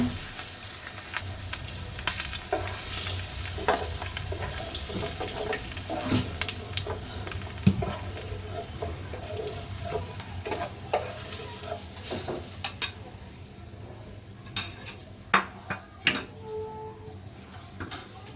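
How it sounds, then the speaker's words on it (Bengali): Pointed gourd frying in oil in a pan gives a steady close sizzle, with stirring scrapes and utensil clicks throughout and a few sharper taps near the end as the frying quiets. "পটলগুলো ভাজা হয়ে গেছে,"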